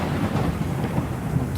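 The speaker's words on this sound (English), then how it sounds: "It's still raining." Steady, dense outdoor rain with a low rumble of thunder running underneath, loud and continuous throughout with no talk.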